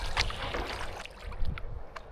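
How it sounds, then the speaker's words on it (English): Steady rushing water churns and splashes over a weir at Weybread Mill on the River Waveney, a broad continuous wash with brief louder surges. "You can hear the water going over the weir."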